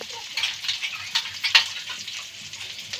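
Dried red chillies and panch phoron sizzle steadily in hot oil for a spicy mutton dish, a dense close crackle with a few sharper pops and no talking.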